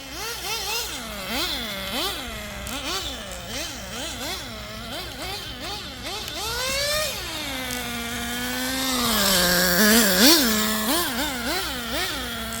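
A nitro RC truck's small engine runs close by, revving up and down in quick repeated buzzing swells, then holding a steadier higher whine before blipping again.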